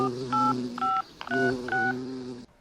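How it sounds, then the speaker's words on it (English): A telephone being dialed: a run of distinct touch-tone beeps in short pairs and groups, close and clear, over faint background sound. "Dial Hatzalah."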